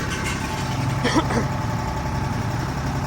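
Case Dania International D3000 combine harvester with a three-cylinder turbo engine runs at high revs, a steady even drone close by with a brief voice partway through.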